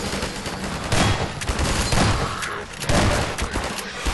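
Rapid bursts of gunfire from Half-Life 2, with dense automatic volleys swelling roughly once a second over a constant roar of combat noise, loud and close throughout.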